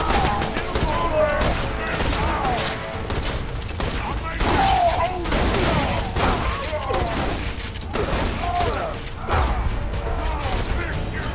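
Shotgun blasts and explosions in the video game Borderlands 2 burst repeatedly through a busy combat mix of booms and mechanical clatter, with someone talking over the action.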